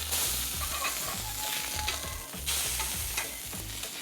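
Alaska rockfish fillet, skin side crisped, sizzling and frying in a hot pan just after being flipped; a steady close crackle runs throughout with low stirring and scraping bumps and no talk.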